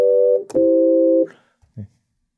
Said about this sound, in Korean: 사인 웨이브로 선택을 하면 이런 소리가 나요.